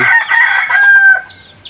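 A rooster crows among chickens in a backyard where poultry are kept, one loud drawn-out crow with a bright sustained tone lasting over a second, close and clear.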